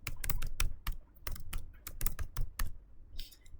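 Router configuration commands are typed on a computer keyboard, a quick, irregular run of crisp, close key clicks and taps with no voice.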